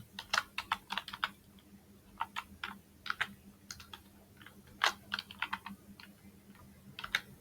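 Code being typed on a computer keyboard, close rapid bursts of key clicks with short pauses between runs, over a faint steady hum.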